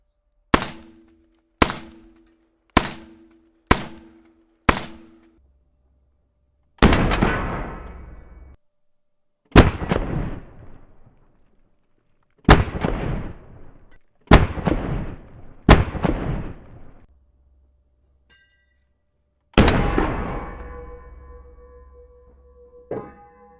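Shots from an M1 Garand rifle: five sharp reports in quick succession, then a slower series of six louder booming shots with long echoing decays, close and alone without talk.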